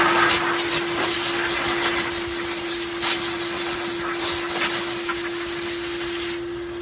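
A DeWALT 10-gallon wet/dry shop vac runs steadily from its blower end, giving a loud continuous whooshing roar with a constant motor whine throughout and a slight drop near the end.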